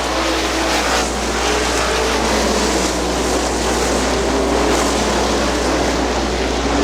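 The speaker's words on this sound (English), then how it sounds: "Slamming those cars into a sideway drift into the high banks on the 3/8 mile." 400-horsepower winged sprint cars roar as they drift sideways into the high banks of a 3/8-mile speedway, a dense, continuous engine wash at steady loudness with no pauses.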